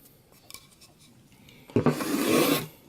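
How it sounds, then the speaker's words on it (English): A TackLife 13-in-1 multi-tool blade digs and rasps into a 2x4 piece of wood, with a few light scrapes followed by one loud, sustained grinding stroke lasting about a second, close and alone. "here's a 2x4. And it will definitely start digging in to the wood"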